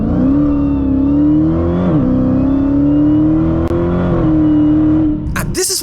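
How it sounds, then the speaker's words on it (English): A supercharged Dodge Hellcat engine revs loud and close with a steady whining supercharger tone that rises and dips over several seconds, then cuts off in a few sharp bursts at the end. "these Hellcats have a very distinctive supercharger sound which is not replicated in Forza Horizon 5"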